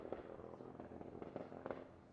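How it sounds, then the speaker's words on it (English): A C6 Corvette engine bounces off its rev limiter, giving a rough, rapid stutter of popping bursts over a steady droning note, loud and close throughout with no talking. "Someone is just banging the limiter."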